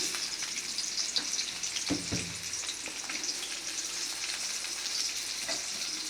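Steady sizzle of chopped onion frying with garlic in hot oil, a continuous crackling hiss with a couple of soft clinks partway through.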